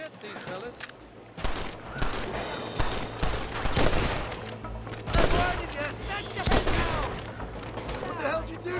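Repeated gunshots ring out in a Red Dead Redemption shootout, with cracks in irregular bursts across the whole stretch, some close and sharp, mixed with game sounds.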